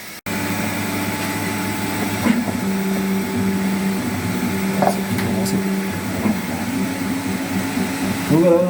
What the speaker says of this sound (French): l'impression est en train de s'imprimer en blanc comme on peut regarder sur la vidéo